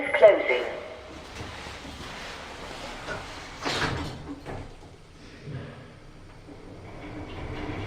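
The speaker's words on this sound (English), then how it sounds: "Doors closing." Doors on an old lift with its original motor and drive slide shut in a car park, a soft rumbling glide with a muffled thud partway through, set against steady machinery hum and a quiet recorded voice.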